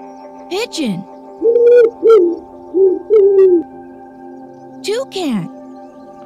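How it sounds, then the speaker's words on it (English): Pigeon cooing in several soft, throaty phrases at moderate distance, set between two short spoken words, with a steady background hum throughout. "Pigeon."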